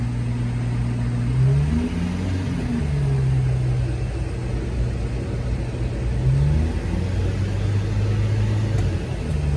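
Engine of a Subaru Sambar running steadily with its cooling fan blowing, a continuous close rumble that rises slightly as it revs and settles back, with no talking.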